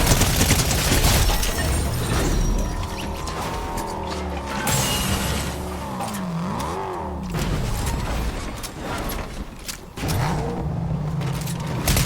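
A car drives in Fortnite Zero Build, its engine loud and close with rising and falling revs as it steers and accelerates, mixed with crashes and gunfire bursts and no talk.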